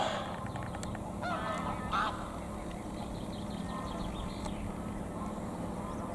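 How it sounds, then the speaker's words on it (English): Geese with their young on the water honk repeatedly in the distance, scattered calls clustering early then thinning out over a steady outdoor background hum. "You can see the geese with all their young."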